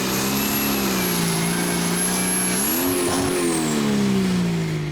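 A Valtra pulling tractor roars at full power during a Danish tractor pulling championship run in Herning, a loud sustained engine drone that dips and rises in pitch around the midpoint.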